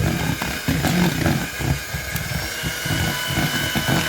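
Cream whisked with a loud electric mixer for a Victoria sponge topping, a steady dense whirring buzz that runs close and unbroken throughout.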